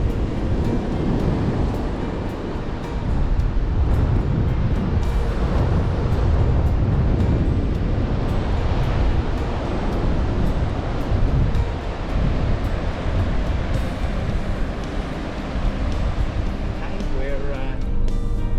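Strong wind at a beach on the Yorke Peninsula, South Australia, buffets the microphone in a continuous roar, with surf rumbling underneath and a voice speaking through the noise.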